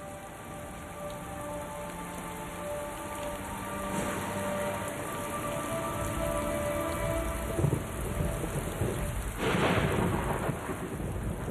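Heavy rain pours steadily in a canyon while thunder rumbles and rolls through the downpour, swelling louder near the end, with no voices.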